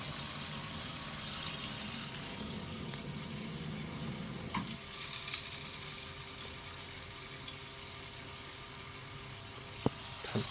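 A Companion Aquacube water heater's pump recirculating water, a steady low hum and rushing flow with a faint whine, broken by a few small clicks and knocks.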